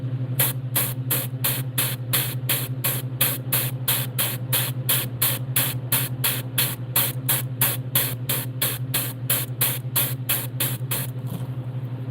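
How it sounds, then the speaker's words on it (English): An airbrush sprays paint onto a crappie fish carving in short, evenly spaced hissing bursts, about two per second, over a constant low hum of the compressor, with no talking. "I can't just sit here and spray it like I really want to."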